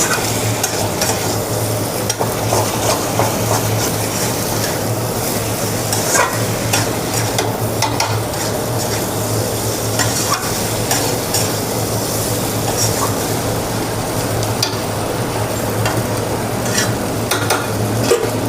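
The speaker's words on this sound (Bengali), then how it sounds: "ভাজা ভাজা করবো তো এটাকে আমি ঢেকে ঢেকে স্লো আঁচে ভাজা করব" Green tomatoes frying and being stirred in a pan over low heat, a steady close sizzle with scraping stir strokes running throughout, with no talking.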